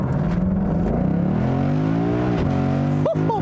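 A 2019 Ford Mustang GT convertible launches hard from a stop with a loud, close engine note that rises steadily through the revs, then shifts and climbs again, with a brief voice at the end.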